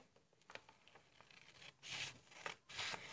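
Scissors snip through origami paper while a paper tulip stem is being cut, giving a few soft, close, crisp cuts after quieter rubbing and handling sounds, with no talking.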